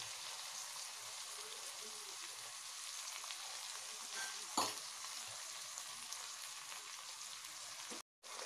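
Beaten eggs fry in hot oil at the side of a pan of egg fried rice, giving a steady close sizzle throughout with one brief sharp clatter midway and a short silent gap near the end.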